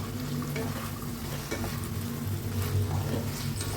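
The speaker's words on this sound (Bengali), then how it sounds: "এবার ভেজে রাখা আলুগুলোকে আমি এতে ছেড়ে দিলাম। একবার ভালো করে মিক্স করে নেব।" Fried potatoes are stirred in a pan for Kashmiri alur dum. Oil sizzles steadily under close scraping and stirring, with no voices.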